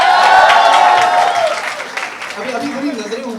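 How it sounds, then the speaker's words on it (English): A round of applause from the audience at a Bollywood song launch event, a dense wash of clapping loud at first, then thinning out as voices emerge beneath it. "Can we please have a huge round of applause for her once again?"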